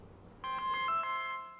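A mobile phone starts ringing partway through, a short warbling electronic ringtone of a few pulsing notes, moderately loud over a faint room background with no one speaking.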